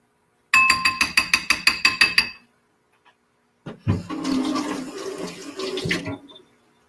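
A quick run of rhythmic knocks, then a pause, then water from a tap splashes into a glass jar for a couple of seconds.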